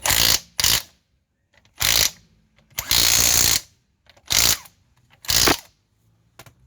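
Pneumatic impact gun used under a Ford Focus Mk1 during underbody protection work, firing in six loud, near bursts of roughly half a second to a second each, separated by short silences.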